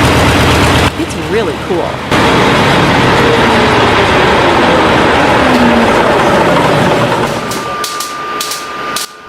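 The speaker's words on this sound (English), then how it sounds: "The Westinghouse J34, company designation Westinghouse 24C, was a military-grade turbojet engine." A restored 50-year-old Westinghouse J34 military turbojet engine runs with a loud, steady, broadband roar that holds nearly unbroken throughout, then eases slightly near the end; a voice speaks briefly over it.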